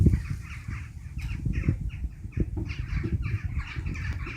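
Several crows and other birds call outdoors, with repeated caws overlapping in an uneven rhythm at moderate distance over a low, continuous background rumble.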